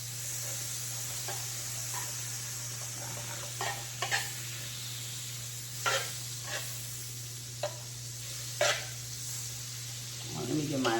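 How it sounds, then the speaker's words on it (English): Butter dabs sizzling on a hot griddle for French toast croissants, a steady, moderate frying hiss punctuated by occasional taps and clicks of a utensil, with a person talking now and then. "my griddle is hot, so I'm gonna get a few dabs of butter on there"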